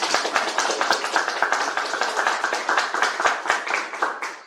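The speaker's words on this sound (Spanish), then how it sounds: "Este aplauso es para Paco." A debate audience applauds steadily for about four seconds, a dense close patter of many hands clapping with no voices over it.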